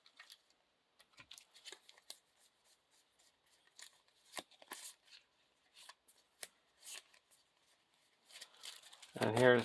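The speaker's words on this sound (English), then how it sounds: "Shuffle the encounter deck." A deck of encounter cards for a Lord of the Rings living card game is shuffled by hand at a table, with soft riffling and flicking bursts in irregular clusters, quiet and close, ending in a short louder rustle.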